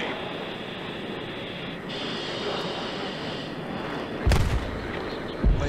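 Bombs dropped in Battlefield 3 land with two deep booming blasts near the end, one heavy and one shorter, over a continuous roar of aircraft and battlefield rumble.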